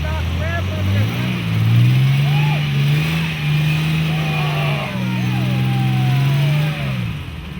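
A turbocharged off-road 4x4 engine revs hard while climbing rocks outdoors. It rises and holds at high pitch, dips, then surges again, loud and close, with people talking over it.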